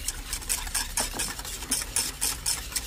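A spoon is drawn steadily around a pot of soup with vinegar in it, about four scraping strokes each second in an even rhythm, close and moderately loud.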